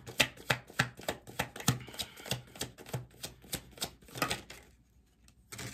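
Tarot cards are shuffled and drawn by hand up close: a quick rhythmic run of crisp taps and slaps, then a brief quiet gap before one more soft card sound.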